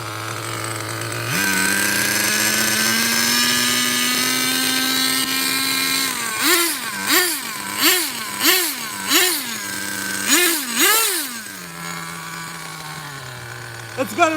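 An HPI RS4-3 EVO+ nitro RC car engine runs close by, a high buzzing drone that climbs and holds, then surges through a run of rapid revving bursts before settling back to idle.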